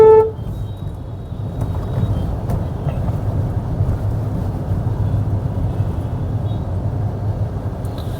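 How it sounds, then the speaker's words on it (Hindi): A vehicle horn toots once, close and loud, at the start; then a steady low rumble of slow, jammed road traffic continues near Botanical Garden and the DND flyover, beneath an elevated metro line. "और आगे की तरफ ये पूरा ट्रैफिक पैक हो गया है"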